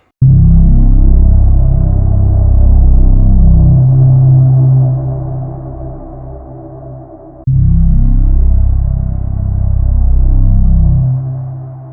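Deep synthesized pulses from a Kontakt instrument throbbing in a steady low rhythm, loud and close, with a brief break midway before the pulsing resumes.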